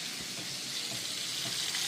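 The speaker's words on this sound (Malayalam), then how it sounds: "ചിക്കൻ ഇത്ര ഫ്രൈ ആയാൽ മതി" Chicken pieces frying in hot oil in a pan, producing a continuous bright sizzle close up with faint low bumps, steady and unbroken, with no voices.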